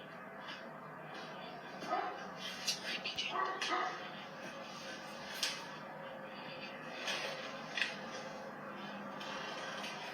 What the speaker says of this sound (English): a dog barks maniacally in the background